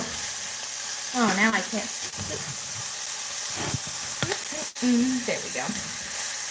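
Peppers fry in a pan with a continuous soft sizzle and hiss as a person talks briefly over the cooking, close by.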